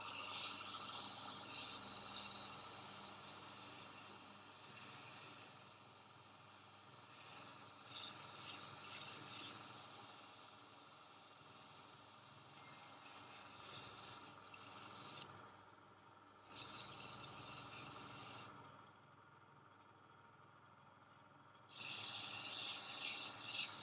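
Sandpaper is rubbed by hand across a wooden piece in a series of dry, rasping strokes, with bursts of brighter scraping between quieter stretches and no voices.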